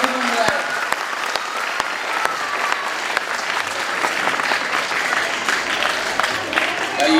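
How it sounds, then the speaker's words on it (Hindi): A crowd at a public gathering claps loudly for a visiting MLA, a dense and steady wave of applause with a few sharper claps, lasting several seconds. "हमारे एमएलए साहब के लिए सब जोर से एक बार ताली बजा लो"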